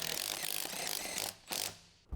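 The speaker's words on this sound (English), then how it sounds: "Use a large 18mm deep socket and a large short extension together with a large impact wrench to tighten the wheel lug" A large impact wrench with an 18mm deep socket and short extension tightens wheel lug nuts on a 2013 Jeep Wrangler JK, giving loud rapid hammering rattles in two bursts before stopping.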